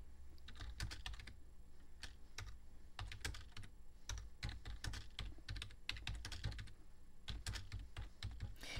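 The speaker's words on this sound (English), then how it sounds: "if I start typing" Steady, quiet clacking of keys on a computer keyboard, rapid and continuous with brief irregular pauses, no voices.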